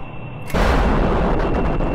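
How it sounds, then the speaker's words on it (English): Missile launch in the Kerbal Space Program game, with Predator drone mods: a sudden loud blast cuts in after a quiet hum and rolls on as a sustained roaring rumble to the end. "Fire a couple missiles, but I think it got rid of our target."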